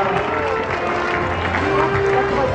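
Audience applause at a horse-training show, a steady dense wash of clapping with crowd murmur, fairly loud and continuous throughout.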